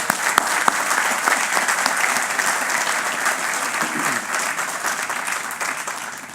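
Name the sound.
audience round of applause at a ceremony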